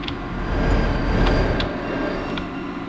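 Train in Garry's Mod rumbling steadily with low heavy rolling noise and a few sharp clacks, loud and close, without talk.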